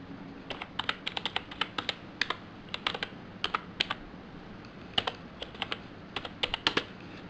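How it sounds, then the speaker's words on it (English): Typing on a keyboard connected to a Nexus 7 tablet, a close run of crisp, irregular key clicks in quick bursts with short pauses, heard alone without any voices. "I'm typing it here with the keyboard."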